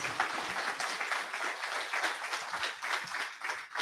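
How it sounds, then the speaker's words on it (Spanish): Audience applauding after a talk at a Python programming conference in Santiago, Chile, steady dense clapping from a mid-sized room lasting several seconds. "Démosle un fuerte aplauso arriba."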